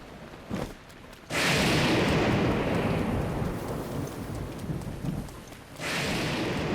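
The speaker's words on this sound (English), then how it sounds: "And of course, it's a thunderstorm." A thunderstorm in Zelda: Breath of the Wild, with rain and a loud, close rumbling thunderclap that swells suddenly, rolls and slowly fades into steady rainfall before another surge at the end; no talking.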